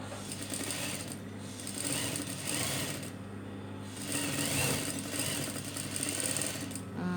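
A sewing machine stitches a nurse uniform with a steady, fast mechanical whirr that pauses briefly a couple of times before resuming, fairly close and moderately quiet, with no talking.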